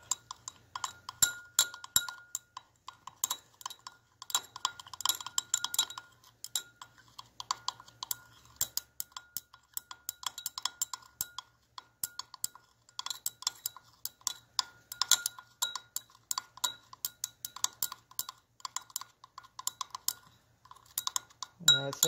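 A sludge sample is stirred in a glass container, giving a steady run of light clinks and scraping taps against the glass throughout, fairly close and moderately quiet, with no talking.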